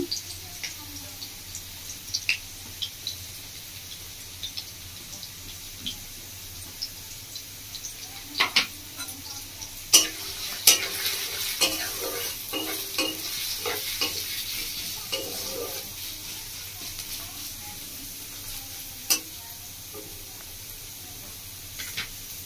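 Urad dal cooking in leftover ghee from an earlier frying step, with a steady low sizzle, scattered utensil scrapes and clinks of stirring that grow busier midway, no talk over it.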